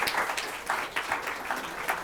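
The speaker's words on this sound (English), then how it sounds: "let's have a warm round of applause for the iconic Lily Tharoor" Audience applause at a Mother's Day book event, steady clapping from a crowd with a few louder bursts, fairly quiet and continuous throughout.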